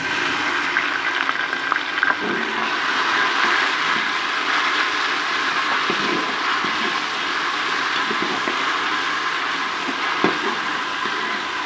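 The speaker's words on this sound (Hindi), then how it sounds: "इसमें डाल देंगे अदरक लहसुन की पेस्ट" Ginger garlic paste hitting light brown frying onions in a pan for aloo band gobhi sabji, giving a steady, close hiss and sizzle with scattered crackles and no talking.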